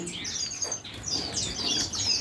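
Finches and other small cage birds chirp and tweet in a breeding farm, with busy overlapping high calls and occasional wing flutters throughout.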